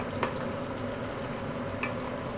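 Slices of Maling luncheon meat fry in a pan with a steady, close crackling sizzle. Occasional louder pops and spits rise above the even hiss, with no voices.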